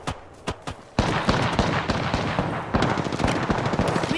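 Rapid gunfire in the battle royale game Apex Legends: a few separate shots, then a dense, loud burst of automatic fire that continues steadily to the end.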